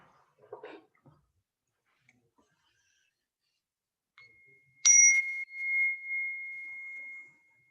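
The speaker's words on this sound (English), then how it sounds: "you're going to hear the sound of the bell" A single clear meditation bell strike rings out after near silence, its pure tone sustaining and slowly fading over several seconds; faint knocks come before it.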